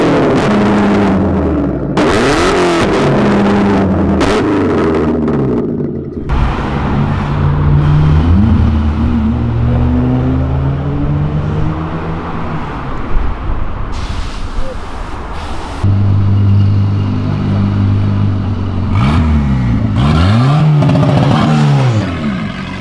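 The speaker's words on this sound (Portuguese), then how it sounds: "coloca um trecho desse Clio soltando fogo bem aqui do nosso lado" A Renault Clio revving hard up close, shooting flames from the exhaust, its engine note climbing and falling in repeated surges with sharp popping bursts from the exhaust, loud and continuous over roughly twenty seconds.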